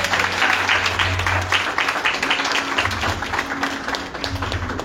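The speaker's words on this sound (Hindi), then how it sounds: "ताली बजा कर धन्यवाद करेंगे।" An audience claps together in thanks at a gathering, with dense, steady applause that fills the space and tapers slightly toward the end, over a faint low musical drone.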